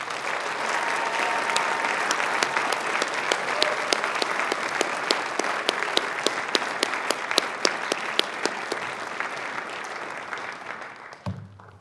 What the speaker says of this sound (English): Let's have a final applause for the class of 2017.